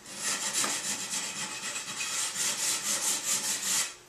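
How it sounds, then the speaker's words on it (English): Hand sanding on the corners of a hardwood floor gives a rhythmic, dry scratchy rasp, repeated back-and-forth strokes about every quarter second, fairly quiet and close with no talking. "We hand sand all the corners."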